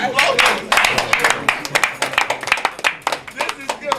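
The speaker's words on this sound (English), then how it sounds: "Clap for him, clap for him, clap for" Close, sharp clapping from a small group for Governor Aregbesola, distinct uneven claps in a quick rhythm, loud and near throughout.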